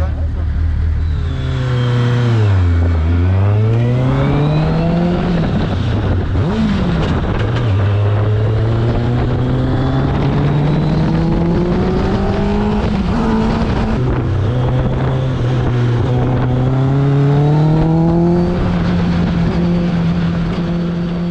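Race car lapping the Lurcy-Lévis circuit, its engine loud and close throughout, with rising and falling revs as it shifts gears and brakes for corners.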